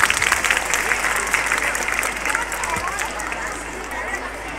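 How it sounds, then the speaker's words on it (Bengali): Steady applause fills a girls' high school's 125th anniversary prize-giving ceremony, many hands clapping continuously at moderate volume with crowd murmur in the hall. "তোমরা হাততালি দাও"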